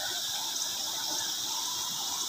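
A river at a resort in Kuala Nerang, Kedah, flows with a soft, continuous rushing and trickling, steady and fairly quiet with no other sounds.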